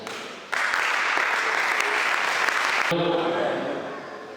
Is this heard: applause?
yes